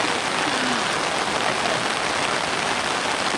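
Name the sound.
water gushing in rain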